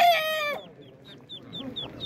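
Sumatra chickens, two hens and a rooster, at a poultry market give a loud call at the start, then a run of short, evenly spaced clucks and chirps against busy market background.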